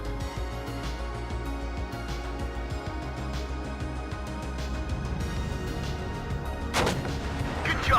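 Artillery fire in the Warno wargame: a rapid series of heavy booms and cracking shots fires in quick succession, with a bigger blast near the end, loud and close with no voices.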